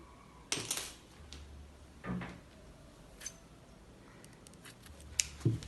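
Scissors snipping a few times while a fabric dish towel holder is being made, a handful of short close crisp cuts and light handling knocks with quiet pauses between them.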